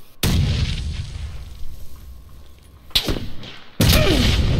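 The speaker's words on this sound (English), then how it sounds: "That's a grenade." A grenade goes off in the battle-royale video game PUBG, a loud close boom followed by a rumbling tail, then a second heavy burst near the end, with no talking over the blasts.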